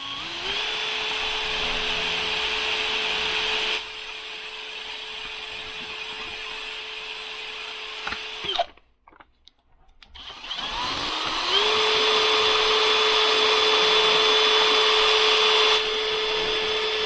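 A cordless battery drill spins a screw against 1500 grit sandpaper, a steady high whine that holds for several seconds, cuts out briefly, then spins back up and runs on loud and close.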